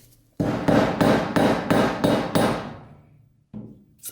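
A rubber mallet taps a punch to seat the fork seal of a Marzocchi Monster 2000 mountain bike fork, six firm evenly spaced knocks in quick succession, then a pause and a seventh tap, close and loud.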